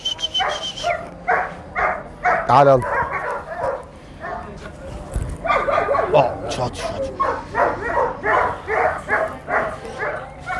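An eight-month-old dog on a farm barks and yips repeatedly in quick bursts, close by, mixed with some whimpering, while someone talks and calls to it over the barking.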